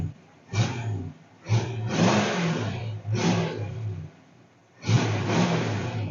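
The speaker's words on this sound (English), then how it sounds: "I'm just barely bumping the gas." A 1966 Dodge Charger's 318 engine with a Poly carburetor gets four short throttle blips, each a quick rising roar that falls back to a low, steady idle, heard close and alone.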